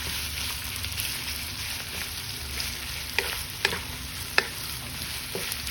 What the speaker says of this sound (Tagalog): We're gonna cook the bacon first.